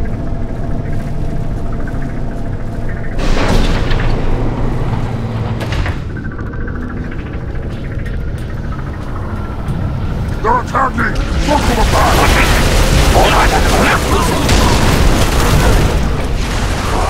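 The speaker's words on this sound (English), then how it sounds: "Finally, a good reason to blow this building up!" A building blows up in Halo 3 ODST, a loud rumbling blast swelling in the second half amid ongoing combat noise, with voices shouting over the action.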